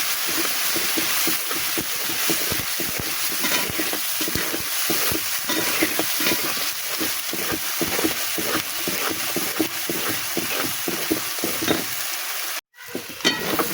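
Masala with tomato and ground nut paste frying in a pan for chicken curry, a steady loud sizzle broken by constant scraping stirs that stop briefly near the end.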